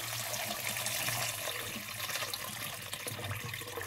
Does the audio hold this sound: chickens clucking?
no